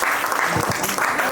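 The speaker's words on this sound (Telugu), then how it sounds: "క్లాప్స్ కొట్టండి అందరూ." Audience applause at a church Christmas celebration, a steady wash of many hands clapping through the short stretch, with a few voices underneath.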